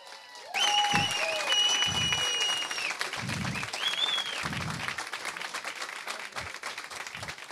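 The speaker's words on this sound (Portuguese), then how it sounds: "é uma salva de palmas para ele" Applause for an employee during a live presentation, a spread of clapping from a modest group heard alongside tonal electronic sounds and low thumps, steady and moderately loud with no speech.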